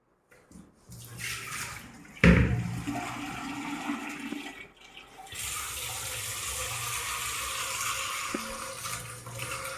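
Water gushing from a rooftop tank onto a watermelon in a home in the heat of summer, a steady running splash with a louder surge a couple of seconds in, then a continuous pour to the end.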